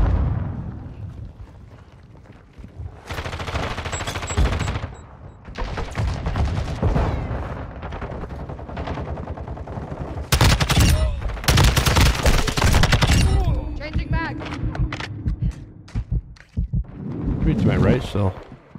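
Automatic gunfire from a gun in Modern Warfare 2 online multiplayer, loud bursts of rapid shots mixed with game sounds and announcer voice lines, with a player talking over parts of it.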